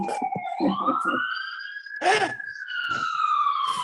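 An ambulance siren wails past, its rising and falling tones sweeping up then easing down, loud and close, with brief bursts of other noise around it.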